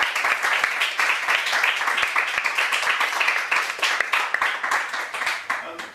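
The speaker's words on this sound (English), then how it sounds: "come big round of applause for everyone" An audience at a London Animation Club screening event applauds after a talk, a thick, even roar of many clapping hands that holds steady and then begins to thin toward the end.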